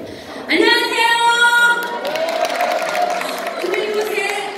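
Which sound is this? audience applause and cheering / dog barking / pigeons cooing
audience applause and cheering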